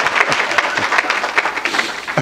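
Steady, dense applause from an audience at a mushaira in Dewas, many hands clapping continuously and fairly loud, with no talk over it.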